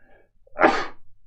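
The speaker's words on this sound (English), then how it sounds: "Got to sneeze." A person sneezes once, close and loud, in the middle of a children's guitar lesson, with a faint intake of breath just before and quiet room sound after.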